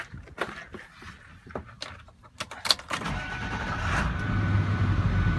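A car with 182,000 miles on it sits parked in hot Tucson weather. After a few clicks and rattles comes a short crank, and the engine catches into a steady idle.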